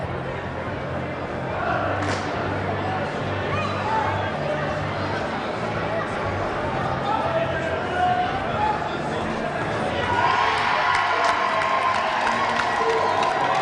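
Crowd at an indoor cricket final, a South Africa versus Australia men's over-40 gold medal match, cheers and chatters steadily for several seconds, swelling louder near the end, with a commentator's voice over it.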